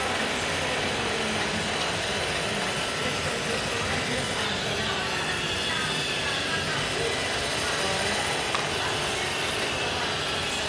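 An iRobot Roomba robot vacuum runs its cleaning cycle with a constant loud whirring, brushing hum that holds steady from start to end, close by.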